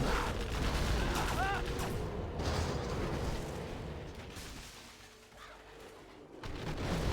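Distant artillery fire in the real-time strategy game Command & Conquer Generals Zero Hour: a battlefield wash of repeated booms and crackling gunfire, loud and continuous, thinning briefly near the end before swelling again.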